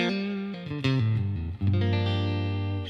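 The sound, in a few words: electric guitar through Dream '65 Reverb amp sim pedal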